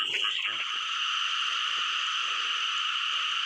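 Frogs croak in a dense, continuous chorus outdoors where traps set for rats have also caught frogs. The sound is steady and fairly loud, with a few faint knocks near the start and no talking.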